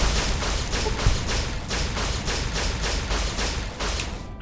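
Rapid, evenly spaced bursts of gunfire from the Fallout video game, roughly ten loud broadband shots in a steady rhythm with a low thud or two, running continuously without talk.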